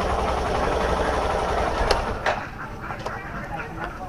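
A Hero Super Splendor BS6 motorcycle engine idles with a steady low rumble continuously, with a few faint clicks and taps over the top.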